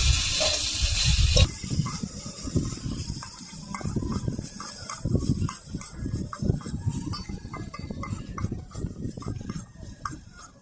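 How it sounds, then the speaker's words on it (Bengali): Spices are stirred and fried in a clay pot alongside mixed vegetables, giving a low sizzle under a dense run of spoon scrapes and knocks after a brief louder rush of frying at the start. "একে একে আমি মশলা দিয়ে এবার সেটা ভালো করে কষে নেব"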